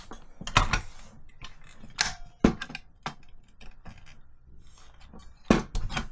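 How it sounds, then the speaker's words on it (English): Disassembling the motor grip of an airsoft MG42 light machine gun gearbox: scattered clicks, taps and plastic-and-metal rattles in short bursts with quiet gaps, close up and alone. "The first step is removing the motor grip."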